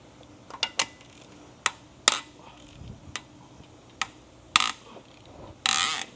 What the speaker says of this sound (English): When you're loosening a head or anything that is like this on the aluminum head where you have multiple bolts